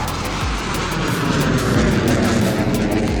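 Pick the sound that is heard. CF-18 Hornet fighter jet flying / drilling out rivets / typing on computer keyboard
CF-18 Hornet fighter jet flying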